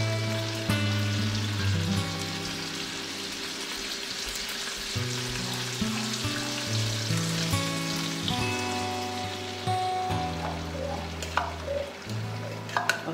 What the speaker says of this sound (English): So now it's boiling already, so I have to put the coconut milk.